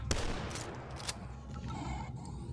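Two sharp shotgun shots in the video game Dusk ring out close together, the second slightly louder, followed by a low rumbling background and faint echoing clatter.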